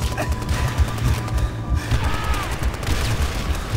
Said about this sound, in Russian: По мне какой-то снайпер лупит.